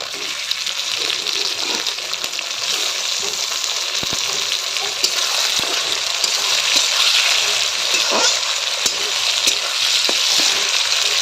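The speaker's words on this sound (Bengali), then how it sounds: "আমি কড়াইতে মাংসটা দিয়ে দিয়েছি" Country chicken meat sizzles and fries in a wok, a steady loud hiss running throughout with occasional stirring clatters and no talking.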